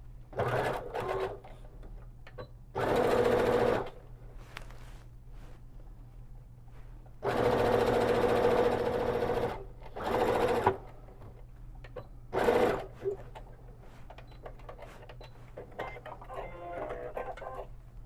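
Home sewing machine stitching a small fabric pouch at a quarter-inch seam, running in several separate bursts of steady rapid whirring with quiet pauses between, close by and moderately loud.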